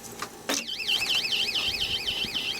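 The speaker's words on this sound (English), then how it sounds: "That's the alarm." A loud electronic alarm warbles in a fast repeating up-and-down siren pattern, starting after a couple of sharp knocks and continuing steadily indoors.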